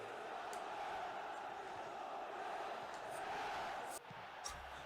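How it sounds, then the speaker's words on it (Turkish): A large video game stadium crowd in PES 2013 roars and chants in a steady, dense wall of sound that dips briefly near the end. "İşte tezahürat gibi. Tribün tezahürat."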